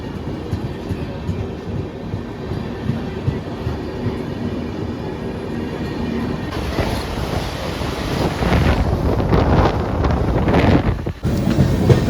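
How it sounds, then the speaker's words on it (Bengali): The Sikkim Mahananda Express from Alipurduar to New Delhi rolls into platform 2 at Dalkhola station at dusk, a steady rumble with wind buffeting that swells louder and rattles as the cars pass close. "ডালখোলা স্টেশনের 2 নম্বর প্ল্যাটফর্মে ঢুকছে সিকিম মহানন্দা এক্সপ্রেস"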